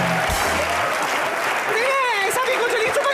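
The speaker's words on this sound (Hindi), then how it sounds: "क्या ताली बजाते रहते हो?" A studio audience applauds at a comedy show, with dense continuous clapping throughout and a voice speaking over it.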